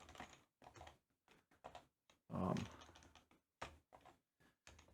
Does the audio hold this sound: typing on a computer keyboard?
yes